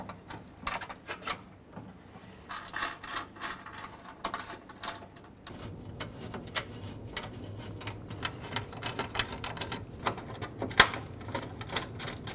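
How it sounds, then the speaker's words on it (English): Radiator bolts being fitted on a 2008-2010 Ford F-250: a string of light metallic clicks, taps and ratchet-like ticks, irregular and close, with a steady low background hum. "Okay, let's put in the bolts."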